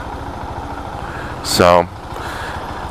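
KTM 690 motorcycle engine running at a steady idle, with a brief louder throttle blip rising in pitch midway, heard from close by at night with someone speaking over it.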